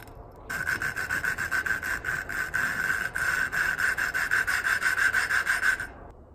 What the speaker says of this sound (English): I suction cup this to the valve and then turn it while it's in the head to grind that seat out